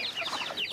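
Chickens in a northern Thailand village clucking in quick, overlapping bursts, fairly close and moderately loud with no speech.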